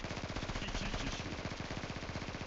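Automatic weapon fire in the mobile shooter Zula Mobile on the Çanakkale map: rapid, evenly spaced shots rattle in a continuous burst, fairly faint and heard on their own.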